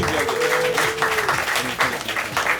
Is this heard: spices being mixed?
no